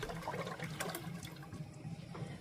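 Raw milk pours from a half-gallon container into a cooking pot, making a soft, continuous liquid trickle that sounds faint and steady for a couple of seconds.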